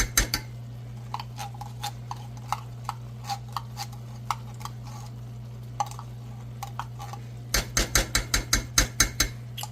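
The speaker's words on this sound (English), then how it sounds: "Give that a nice little mix here." Homemade pepper chili being stirred in a pot over medium heat, a spoon tapping and clicking against the sides in sparse knocks that quicken into a rapid run of taps near the end, over a low steady hum.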